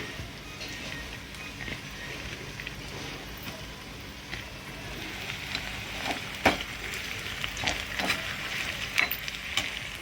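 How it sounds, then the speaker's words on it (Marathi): Onions and green chillies frying in hot oil with a bay leaf, a dense continuous sizzle close by with scattered pops and spatters growing busier in the second half. "लाल कांदा, ब्राऊन कांदा होऊ द्यायचा आहे. मिरच्या जरा तळून निघत्या, तेजपत्ता टाकू आपण"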